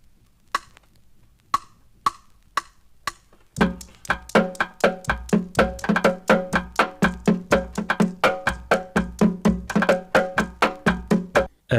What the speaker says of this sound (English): And then the rumba sounds like this.